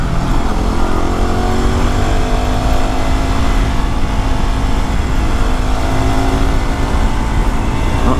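Yamaha WR250R supermoto motorcycle climbing Old Santa Cruz Highway, its engine droning steadily and loudly up close with shifting pitch and heavy wind rumble, no talk.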